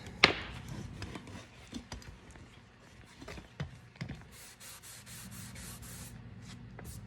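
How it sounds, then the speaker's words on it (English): Hand sanding on a wooden barrister bookcase during refinishing, a soft steady rubbing that comes and goes with a few light knocks, close and fairly quiet with no talk. "I'm just gonna go back, sand it a little bit more, add some stain."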